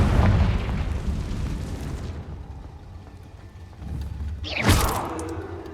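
A Confringo blasting spell explodes in Hogwarts Legacy, a sharp burst near the end that rises out of a low rumbling game background and decays quickly.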